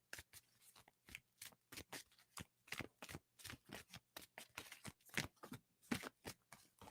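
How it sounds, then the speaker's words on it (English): Tarot cards being shuffled by hand, a rapid series of crisp riffling bursts in an uneven rhythm, close and quiet in an otherwise silent room. "it was like almost a sloppy shuffle"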